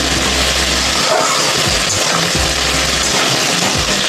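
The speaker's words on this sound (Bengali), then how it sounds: "দেখো বন্ধুরা উচ্ছে দিয়ে বেগুনটা ভাজছি" Eggplant and bitter gourd frying in plenty of oil, a steady close hiss of sizzling with occasional light clinks from stirring throughout.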